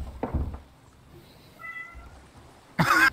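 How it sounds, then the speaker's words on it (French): A pet cat meows indoors during a live charity stream, with a few short nearby meows followed by a louder, sharper meow at the end. "C'est le chat qui a répondu."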